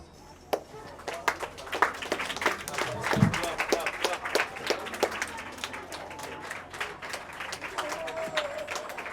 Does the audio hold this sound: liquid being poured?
no